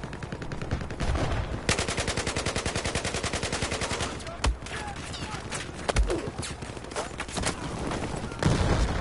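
Sustained automatic weapon fire in a video game, long rapid rattling bursts with a few sharper single cracks, steady and fairly close, with a voice talking at times over it.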